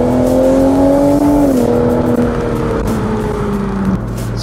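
A 2019 BMW Z4 M40i with a 250 kW engine accelerates hard on a Cape Town road, a loud close engine note rising in pitch, easing through a gear change and climbing again, with no talking.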